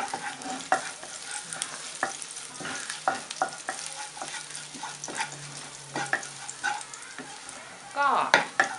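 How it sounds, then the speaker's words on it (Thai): Crushed Thai garlic, unpeeled, stir-fried in a hot pan: a steady sizzle with repeated scraping and stirring strokes of the utensil, close and fairly loud, with a brief busier burst near the end. "ก็ผัดให้กระเทียมพอหอมนะคะ"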